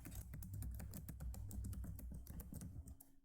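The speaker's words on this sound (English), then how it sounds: "So let me type in my password." Rapid clicking keystrokes of a password being entered on a computer keyboard, close and steady over a low background hum, with no talking.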